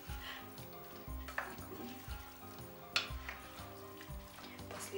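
Vegetables stewing in a Zepter pot are stirred, giving a steady close sizzle with soft scraping strokes and a couple of sharper clinks, without speech.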